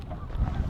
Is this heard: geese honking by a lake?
yes